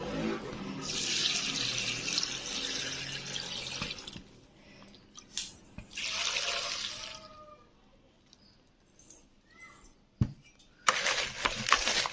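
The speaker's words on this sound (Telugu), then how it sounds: "కొంచెం నీళ్ళు పడ్డాము" Water pours from a tap in a kitchen during pickle making, coming in a long steady stream, then short splashing bursts and drips between quiet gaps.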